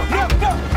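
A dog barks and yips in short, close bursts over a loud rumbling background, with a brief whimpering tone between the barks.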